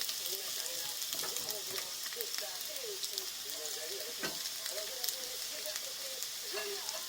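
Potatoes fry in butter in a pan, a steady bright sizzle that goes on throughout, with scattered pops and a voice talking faintly underneath.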